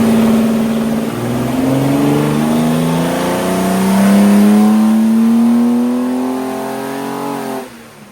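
A tired 265 Hemi engine in a car on a dyno revs steadily upward through the gears, its loud rising drone climbing repeatedly before cutting off sharply near the end.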